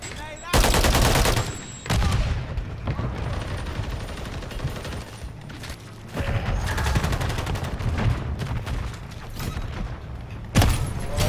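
Gunfire from a Call of Duty match, with loud bursts of rapid shots and sharp single cracks coming in clusters over the scene, some near and punchy, others fading into reverberant echoes.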